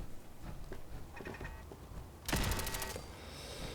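Turret gunfire in the post-apocalyptic game Fallout 4, with a short rapid burst of distant automatic shots standing out from a low ambient hum.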